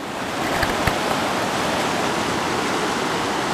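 River water rushing steadily along the bank at Quechee Gorge, a continuous broadband wash heard close by, with a couple of faint knocks early on and no talking.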